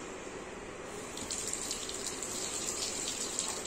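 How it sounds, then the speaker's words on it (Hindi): Water is poured into a U-shaped pipe bent and sealed with end caps, making a steady, close splashing rush that grows slightly louder partway through and continues without pause. "जैसे मैं इसमें पानी भर दूंगा अभी"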